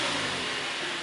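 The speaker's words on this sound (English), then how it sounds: "restart the vehicle and verify your engine isn't racing" A Toyota car engine runs steadily after a restart, with a close, even hum and no revving.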